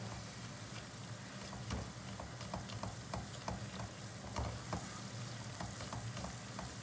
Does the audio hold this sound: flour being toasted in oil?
yes